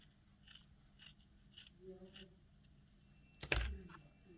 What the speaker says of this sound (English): I'm going to get my scissors hold that together and just cut my wool shape out